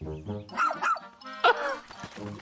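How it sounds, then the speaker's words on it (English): A dog barks in the Pikmin 4 trailer shown during a Nintendo Direct, with a few sharp yaps standing out over the game music and talk. "Of course they put a fucking dog in Pikmin."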